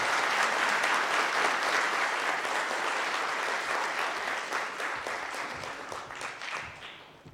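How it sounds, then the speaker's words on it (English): An audience at a Tokyo investment leadership forum gives a sustained round of applause, many hands clapping evenly and densely, gradually tapering in loudness over about seven seconds. "Will the audience please join me in giving a round of applause for Shiozaki-sama?"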